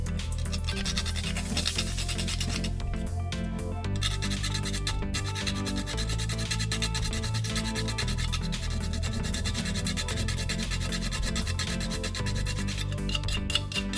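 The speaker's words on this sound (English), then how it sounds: "Grate in some nutmeg, fresh nutmeg" Fresh whole nutmeg scraped steadily against a grater for a Guyanese custard pudding, a continuous close rasping rub that runs throughout without talk.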